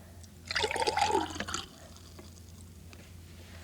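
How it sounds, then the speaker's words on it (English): Water is poured from a short, fat glass into another glass, a close splashing trickle lasting about a second in an otherwise quiet room. "I'm going to take the water from here, from this glass, from this short, fat glass, and pour it into this glass here."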